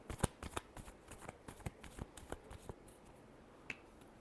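Tarot cards being shuffled up close, a quick run of crisp riffling flicks and snaps that thins out toward the end, with no voices.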